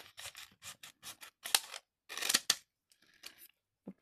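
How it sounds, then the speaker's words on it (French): Scissors snip repeatedly in a quick series of crisp cuts, close and fairly quiet, a few louder strokes standing out, with no one talking. "Il me faut les ciseaux."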